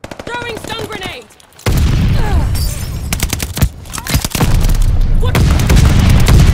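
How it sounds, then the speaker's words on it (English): Stun grenade thrown during a Call of Duty: Vanguard match, a sharp concussive blast amid a loud, chaotic stretch of rapid gunfire and booms, with brief game voice callouts early on. "Throwing stun grenade."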